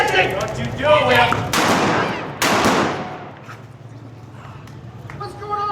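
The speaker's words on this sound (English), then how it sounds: "I heard a whole bunch of shooting" Gunshots ring out in a Western drama, a couple of sharp cracks with long, bright echoing tails, among shouting voices and scuffling.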